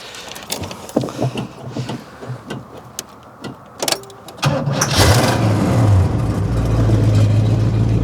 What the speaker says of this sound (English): Oh, and that is a cold start.